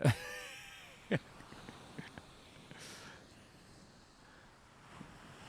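Ocean waves at Miami Beach, Florida, wash in a soft steady surf hiss buffeted by wind on the microphone, with brief loud vocal bursts near the start and a passing louder swell midway.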